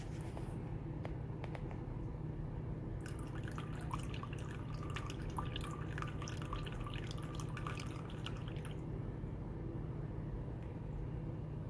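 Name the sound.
water pouring from a mini celadon teapot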